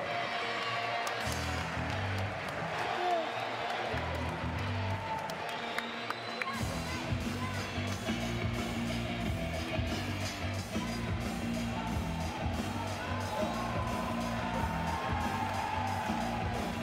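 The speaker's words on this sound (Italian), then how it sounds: "un grande applauso." Audience at an athletics awards ceremony applauding and cheering, a steady dense wash of clapping and crowd noise that swells after a few seconds and carries on throughout.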